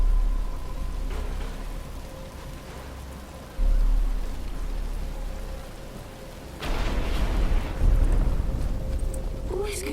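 Rain begins falling in a game scene from Batman: Arkham Asylum, a steady wash of drops with a low rumble that swells louder partway through and again near the end, with no talk.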